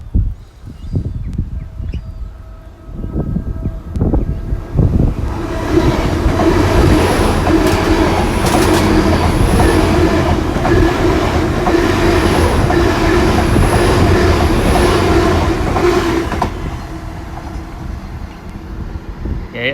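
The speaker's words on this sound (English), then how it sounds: "coming through now will be a Great Eastern Railway service to Penzance from London Paddington" A Great Eastern Railway passenger train bound for Penzance from London Paddington passes at speed, its loud rolling roar and clattering wheels building, holding steady for about ten seconds, then falling away.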